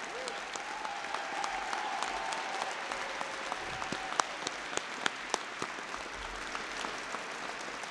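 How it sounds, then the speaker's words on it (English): Audience applause for members of the Indiana General Assembly at a governor's education bill signing, a steady crowd clapping that continues evenly throughout, with a few sharper individual claps near the end. "Let's give them a round of applause."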